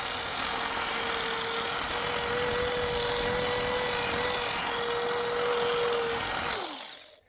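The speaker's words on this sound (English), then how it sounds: "I always like to use a cheap nasty drill as well" A cheap drill spins a wire brush against metal, cleaning it before welding, giving a loud, steady whir and abrasive scrub that runs nearly seven seconds before winding down to silence.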